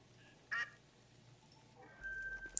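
Wigeon drake in theHunter: Call of the Wild video game, one short faint call near the start, followed later by quieter game ambience with a thin tone and a few soft clicks.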